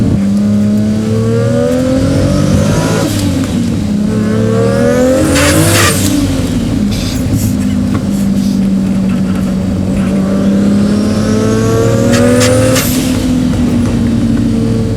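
A 750 hp Toyota Supra with a big-turbo 2JZ engine accelerates hard on a mountain road, loud engine revving up through repeated gear changes with rising pitch sweeps and brief turbo hiss between shifts.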